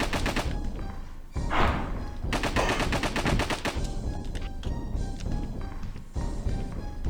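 Gunfire in the video game Alisa, rapid loud shots in bursts with heavy thuds, broken by brief pauses and a quick reload.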